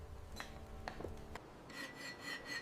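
A hand file rasps in slow, steady strokes over a rough cast brass chandelier part, with several distinct scraping passes close up and no talking.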